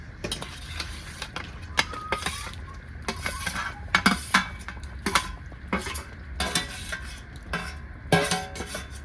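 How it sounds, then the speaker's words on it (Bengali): Fried eggs and potatoes being stirred into egg curry gravy in a pot over a village clay stove: repeated scraping, clinking strokes of a spoon against the pot in an uneven rhythm, with soft sizzling beneath, close and moderately loud, no voices. "এবার আমি ডিম আর আলু ভেজে রাখা দিয়ে দেবো।"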